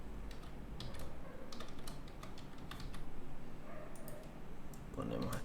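Rapid keystrokes on a computer keyboard as a password is typed, a steady run of close, crisp clicks with brief pauses, while someone speaks over much of it.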